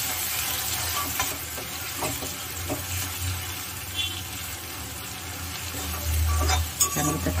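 Tomatoes sauté over a low flame for a Tamil fish curry, making a soft, continuous sizzle while a spoon stirs and scrapes the pan with occasional light clinks, with no talking.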